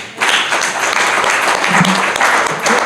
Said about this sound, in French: Je crois qu'on peut se lever à applaudir.